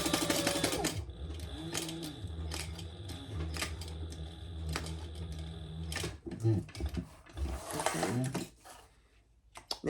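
A sewing machine runs in steady bursts, stitching the long sides of a fabric crossbody bag, with mechanical whirring and clicks between runs and a voice talking over it.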